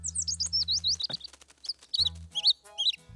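A baby bird in a cartoon chirps in a rapid string of thin, high, sliding peeps that come in small clusters, with a soft low hum underneath in places.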